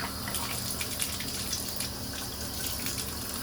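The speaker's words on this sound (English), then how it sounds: "Now we just rinse it off gently." A hydro-dipped shotgun foregrip gently rinsed under running water, a steady close gushing splash from a tap that stays even and unbroken.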